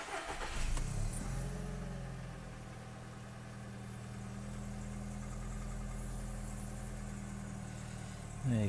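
An Audi A3 special edition engine cranks and fires, then settles into a steady low idle heard from nearby, with a brief louder burst at the end and no speech.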